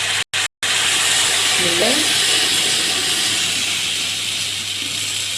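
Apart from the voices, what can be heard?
tomatoes added to frying onions, sizzling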